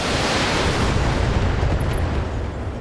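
Missile strike explosion in the mech video game Battletech, a dense continuous rumbling blast that roars loud and steady for a few seconds before easing slightly.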